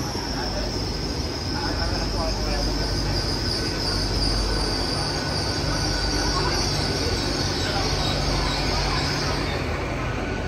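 A Great Western Railway Class 800 train passing close by, a loud continuous roar of wheels on rail with a thin high squeal riding over it for most of the pass.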